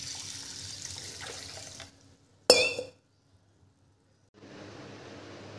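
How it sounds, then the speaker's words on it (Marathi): Rice and lentils are rinsed in water in a kitchen sink, a running-water wash that stops, then a sharp clink of a vessel, silence, and water flowing again. "तांदूळ आणि डाळ स्वच्छ धुतले"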